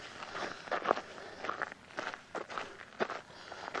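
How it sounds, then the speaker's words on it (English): Footsteps of someone hiking on a trail, a steady crunching tread on dry ground, soft and fairly close, with no talk. "I can almost I can hear her footsteps behind me."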